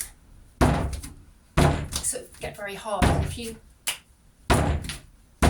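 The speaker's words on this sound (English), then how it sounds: "just bang it about a little bit before you start wedging" Porcelain clay banged down onto a workbench before wedging, several heavy dull thumps spaced irregularly, loud and close, with a person talking between them.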